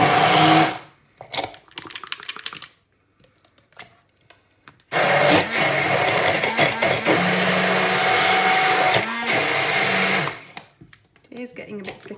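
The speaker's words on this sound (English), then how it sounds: "here's my stick blender. It's all turned on electric, it's going to get quite noisy" Electric stick blender whirring loudly through curry paste for chicken tikka masala, a steady grinding roar lasting several seconds after brief clattering and pauses, close up.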